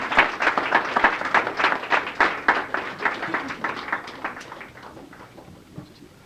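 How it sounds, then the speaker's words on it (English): A room of people applauds a community partner at a Boston youth recognition celebration, clapping loud and near at first, then thinning out and fading over several seconds. "Please give me a round of applause"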